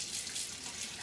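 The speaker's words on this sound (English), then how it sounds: "let me wash my hand one more time" Tap water runs steadily into a kitchen sink while hands are washed beneath it, a continuous broadband hiss held close and fairly loud for the whole moment, with no talk over it.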